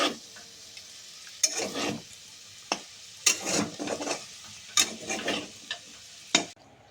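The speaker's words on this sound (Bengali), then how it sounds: "এমনি সানফ্লাওয়ার অয়েলে বা সূর্যমুখী তেলে ভাজা হচ্ছে" Potatoes frying in sunflower oil give a faint steady sizzle, broken by about seven sharp bursts of utensil scraping and clatter spread irregularly throughout.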